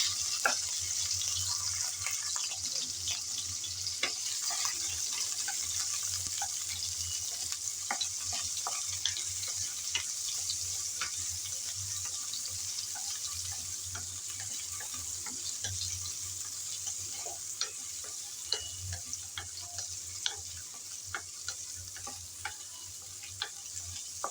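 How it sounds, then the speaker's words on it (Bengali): Prawns sizzle in hot oil in a pan, a steady, close crackling hiss with small scattered pops and light ticks running through the whole stretch, with no talking over it. "গরম তেলে চিংড়িগুলো দিয়ে দিলাম"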